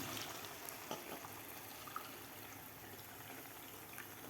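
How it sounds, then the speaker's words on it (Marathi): Plain water poured into a pot of soaked rice and cooked chickpeas for chana pulao, a steady close splashing stream that runs the whole time with no talk over it. "तर यामध्ये आपल्याला आणखीन साधं पाणी घालायचं आहे."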